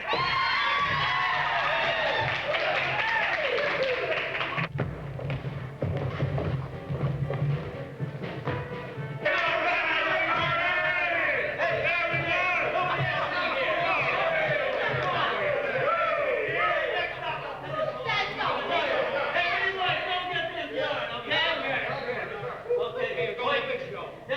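A baseball crowd shouts and cheers in a dense, continuous roar of many voices, with individual yells and whoops rising above the mass and a brief dip near the middle before the clamor swells again.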